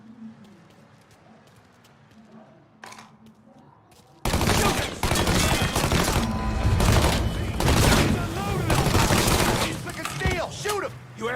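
Dense bursts of gunfire from a Mafia 3 shootout erupt after a few quiet seconds, loud, rapid volleys and single shots overlapping continuously, with shouted voices mixed in.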